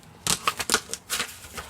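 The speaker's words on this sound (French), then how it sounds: "Je vais découper." Crisp, irregular snipping and rustling of paper, a series of short close bursts with brief pauses between them.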